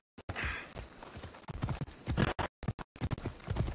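A horse gallops in the Assassin's Creed Odyssey video game, its hooves clip-clopping in a quick uneven rhythm. The hoofbeats sound close but fairly quiet, and short gaps of silence break them up.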